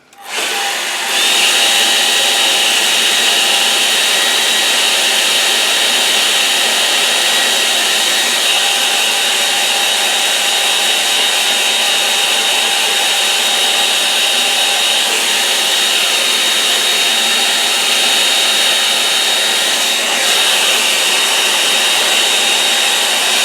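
Hair dryer blowing steadily on a watercolour painting of a snowy Essex field, a loud continuous whirring hiss that runs unbroken and close for the whole stretch, with no talking.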